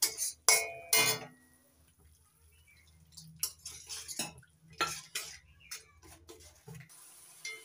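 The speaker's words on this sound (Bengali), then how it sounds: "এবার অল্প অল্প জল দিয়ে মশলাটা ভালো করে কষিয়ে নেব।" A spice paste with turmeric, salt and splashes of water being stirred in a pan, with sharp clinks and scrapes of a utensil against metal in irregular bursts between quiet gaps, close up.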